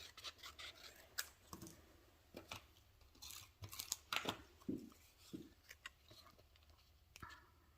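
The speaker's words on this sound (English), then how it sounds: "You can actually cut this in half." Scissors snipping through scrapbook paper, a series of quiet, close crisp cuts and rustles in irregular bursts.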